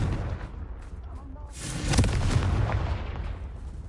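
A Confringo fire spell blasts off in Hogwarts Legacy, a loud, rumbling burst that swells about halfway through and holds over a steady bed of game noise.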